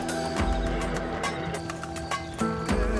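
A horse neighs and whinnies with clip-clop hooves in Red Dead Redemption roleplay, loud and close, repeated calls and stamping over a low game ambience.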